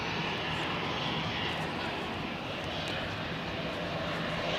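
Aircraft engine roar at Zurich airport, a steady loud broadband rumble from a business jet with wind noise, continuous and close throughout.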